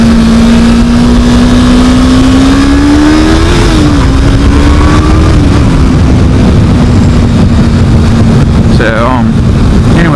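A motorcycle being ridden on a first ride, a loud continuous engine drone with a gently shifting pitch and heavy wind rush at the microphone, the tone rising briefly near the end.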